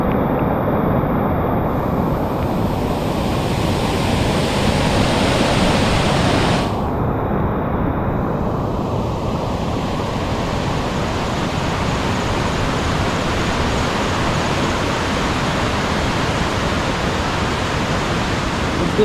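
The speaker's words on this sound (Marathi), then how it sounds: "खूपच जबरदस्त पाणी आलेलं आहे" Strong floodwater rushes through a stream after heavy rain, a loud, constant roar of churning water close by that holds steady from start to finish.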